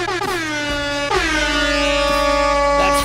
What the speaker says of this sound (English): That's 3 air horns for Lita.